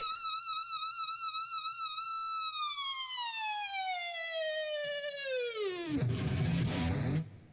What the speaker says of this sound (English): which is just a feedback and the bass, but listen to this feedback